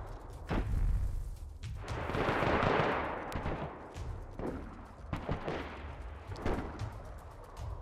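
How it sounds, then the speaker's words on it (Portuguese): Gunfire in the survival shooter DayZ: several heavy shots and booming blasts ring out at intervals, with rumbling echoes between them, mixed with thuds in an outdoor game setting. "Tem um cara atirando aqui na minha frente, mano."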